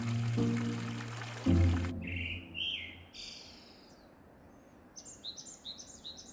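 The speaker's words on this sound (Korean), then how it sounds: "새소리와 맑은 물소리" Birds chirp and trill in short bursts after a low rumbling opening, with a faint steady wash of clear running water underneath, in the mountains at Daeheungsa temple on Duryunsan, South Korea.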